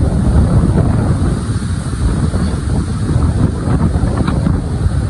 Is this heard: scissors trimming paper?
no